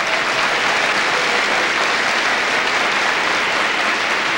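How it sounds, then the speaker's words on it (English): Sustained audience applause fills the whole stretch at a steady, dense level, heard at a 1980 televised Wintario lottery draw in Toronto with no talking over it. "yes, that's worth some applause"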